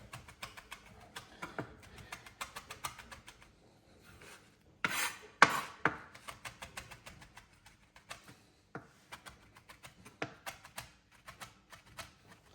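Knife chopping fresh thyme on a cutting board for an Italian pizza tomato sauce, a run of quick, close, crisp taps that slow and space out, with a louder cluster of cuts midway, no talking.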